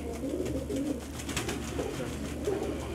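Giribaz high-flyer pigeons in a pet shop give soft, continuous cooing, low throaty pulses overlapping in a short close-up stretch without any speech.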